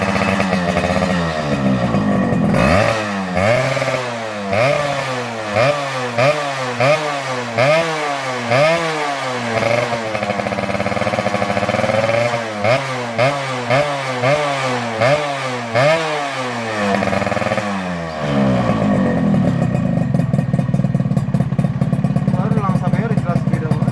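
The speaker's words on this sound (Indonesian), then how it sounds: "Nah gimana suara knalpot CLD nya kalian bisa lihat sendiri di video ini." A Suzuki Satria two-stroke motorcycle fitted with a CLD C1 exhaust revs repeatedly in rhythmic bursts, each throttle blip rising and falling, then settles into a steady loud idle near the microphone.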